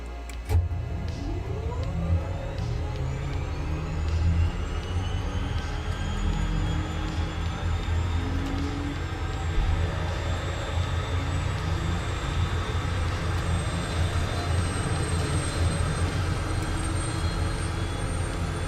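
A propeller airplane's piston engine starts up in the Microsoft Flight Simulator game: a rising whine, then a sustained loud, steady drone with low rumble that continues for the whole stretch, with no one talking.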